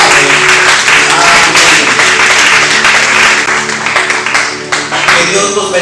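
A church congregation claps loudly and steadily during a Sunday service, with a voice speaking over the applause as it thins out near the end.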